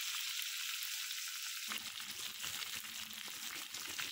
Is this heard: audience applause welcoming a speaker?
no